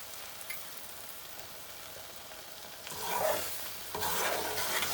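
A spoon stirs thick mango jam in a pan, a low bubbling simmer with soft scraping strokes that grow louder toward the end, without any talk.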